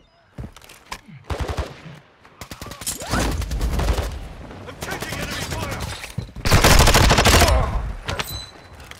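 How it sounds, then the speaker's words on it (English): Bursts of rapid automatic gunfire from enemies in a video game firefight, loud and close, with sustained fusillades separated by brief pauses and a voice talking in between. "I'm taking enemy fire."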